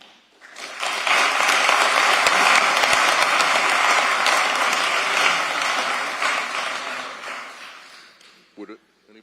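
Applause fills a city commission meeting chamber, a dense steady wash of clapping that swells quickly, holds for about seven seconds, then tapers off as a voice begins speaking.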